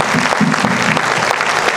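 A large audience claps together at the Institute of Chartered Accountants of Nigeria induction ceremony, producing dense, loud, steady applause that fills the hall for under two seconds with no voices over it.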